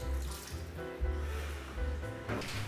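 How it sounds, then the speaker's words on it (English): Hot water from a kettle is poured over spatulas in a single container in a kitchen, giving a short splashing, gurgling pour heard close up. "Now boil some hot water and pour it over your spatulas"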